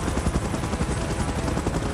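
Helicopter in the video game BGMI, a loud continuous rotor chop throbbing steadily with heavy low rumble, close and unbroken throughout.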